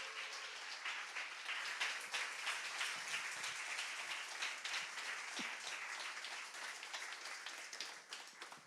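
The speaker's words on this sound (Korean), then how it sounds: "우리 다 같이 박수로 크게 환영하십시다." An audience at a church conference session claps to welcome a speaker, sustained applause of many hands building, holding steady and then tapering toward the end.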